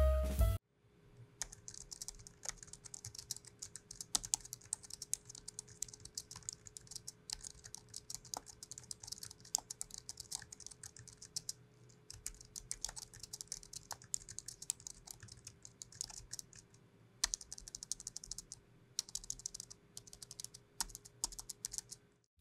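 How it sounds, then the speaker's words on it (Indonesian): Steady, soft typing clatters on a Logitech Signature Slim MK950 keyboard, quiet and close, with continuous rapid keystrokes and a few brief pauses. "karena suara ketikannya ini juga nggak berisik, jadi keyboard ini bakalan aman-aman aja kalau semisal kalian bawa ke kantor"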